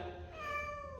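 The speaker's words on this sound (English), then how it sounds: "Sorry about the cat, she's not happy." An unhappy cat meows while being moved to a new home, one drawn-out, wavering cry heard close up and fairly quiet.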